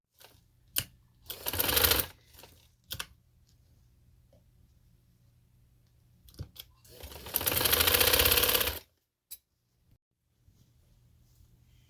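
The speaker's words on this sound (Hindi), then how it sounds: "अब मैं इसको सिलाई से टर्न कर लूँ मशीन से" A sewing machine stitches fabric for a ladies' shirt neckline in two main bursts of rapid, even whirring, close by, with short taps and quiet pauses between.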